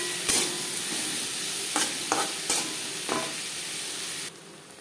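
Spices with salt and turmeric for a puti fish curry sizzle and fry in a pan while being stirred, a steady close hiss punctuated by several sharp scraping strokes, then the sizzle suddenly drops away.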